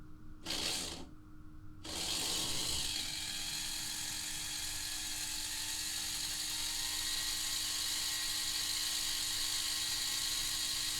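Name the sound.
CD motor running in a Lima Class 121 model locomotive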